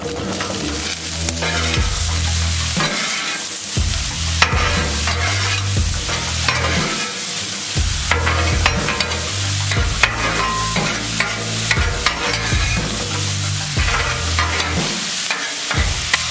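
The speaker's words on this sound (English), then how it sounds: "Put down some oil. And we're going to give these veggies just a few minute head start." Vegetables sizzle in oil on a Blackstone griddle, a loud continuous frying crackle with frequent scraping and stirring from a spatula throughout, no talk.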